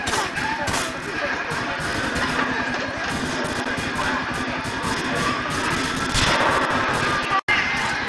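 Dense, continuous battle noise from GTA: The Ballad of Gay Tony, with booming RPG rocket explosions and rapid gunfire, loud and steady throughout, with a brief dropout near the end.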